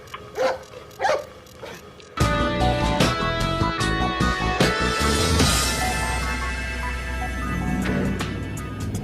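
A dog in the back seat of a car gives two short barks, followed by a loud, dense burst of music and sound effects that continues to the end.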